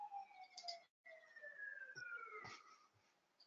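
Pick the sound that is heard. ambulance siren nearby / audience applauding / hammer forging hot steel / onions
ambulance siren nearby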